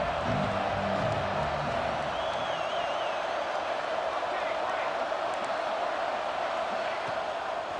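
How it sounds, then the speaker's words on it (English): A stadium crowd in EA Sports College Football 26 roars and cheers steadily throughout as a game sound, a constant wash of distant noise with brief whoops rising above it. "And the crowd is getting into it early here on 3rd and 10."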